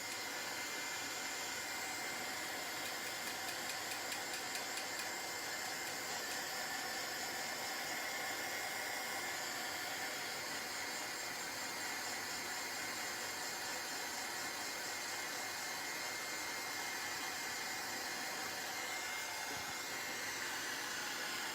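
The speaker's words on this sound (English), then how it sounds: "I'm trying to dry from different angles, so all the blobs of gel are going to get completely dry." A hair dryer blows steadily and continuously, drying gel on a mixed-media canvas, a close, even whooshing hiss that holds for the whole stretch without talking.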